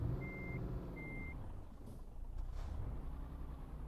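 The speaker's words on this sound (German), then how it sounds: "Okay, ich muss jetzt erstmal kurz rückwärts fahren und wenden." Two evenly spaced reversing beeps from a truck backing up in Euro Truck Simulator 2, sounding over a low, steady diesel engine rumble, followed by a brief hiss like an air brake.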